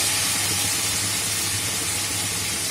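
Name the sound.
fried potatoes sizzling in spice masala in a pan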